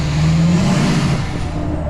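A GMC C5500 truck driving up onto a Freightliner hauler, its engine droning loud and close with a rising, shifting tone throughout.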